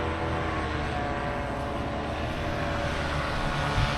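A paramotor with a butterfly wing flies past, its engine a continuous droning hum that stays fairly loud and even throughout, with a brief bump near the end.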